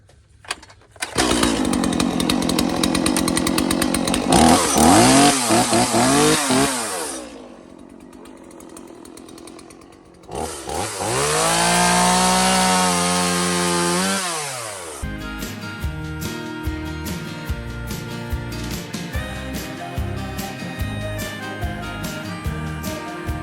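A small chainsaw cuts through wood up close, its engine screaming in long loud bursts with revs that rise and dip, a short idle lull between cuts, then a rougher, steadier grinding stretch to the end.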